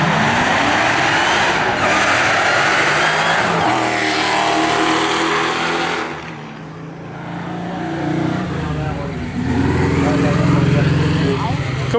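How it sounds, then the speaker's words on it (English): A Dodge Hellcat and a Ford New Edge Mustang launch in a drag race, loud roaring engines and tire noise filling the first seconds, then a quieter pause before engines rise again, with crowd talk mixed in. "a manual Hellcat versus a New Edge Mustang"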